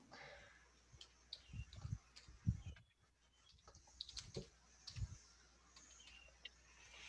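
Keys being typed on a computer keyboard to enter a login, heard as faint, irregular clicks and taps in short bursts over a quiet room.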